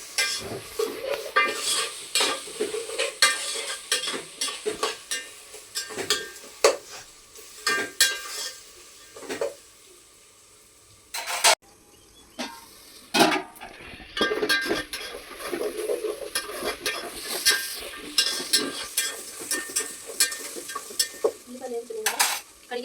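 Turmeric and paste stirred in a pan for a prawn and gongura biryani, with steady sizzling and repeated scraping clinks of a spoon against metal, close and continuous with a brief quiet pause midway.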